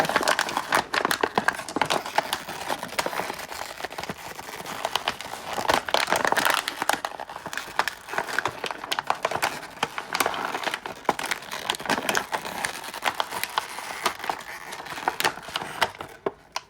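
Plastic packaging of a McFarlane Toys 7-inch Lex Luthor action figure is being cut open, giving dense crinkling and crackling of stiff plastic close up, continuous with small snips and rustles.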